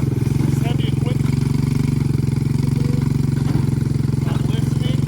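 A Honda Big Red 200ES three-wheeler, a barn find, runs steadily with a low, even engine drone that holds close and loud throughout, with no clear revving.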